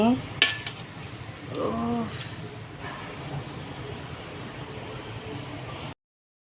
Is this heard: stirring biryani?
yes